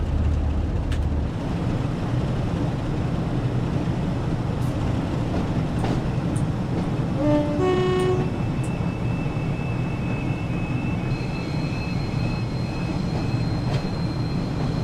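A train in Train Sim World 6 with double-headed Class 73 locomotives at the rear and a Eurostar, heard as a steady rumbling roll that runs throughout, with brief squeals and tones partway through.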